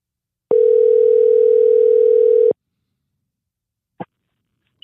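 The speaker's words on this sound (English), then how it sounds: "Come on, buddy, pick up the phone." A single telephone ringback tone sounds for about two seconds, followed by silence and a couple of faint clicks.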